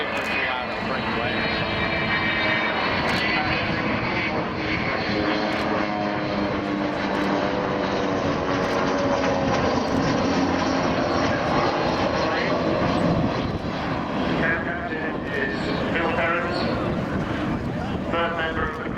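Avro Vulcan XH558 bomber flying slowly past at an airshow with two smaller escort aircraft, a loud, continuous broadband engine roar that stays steady and close throughout.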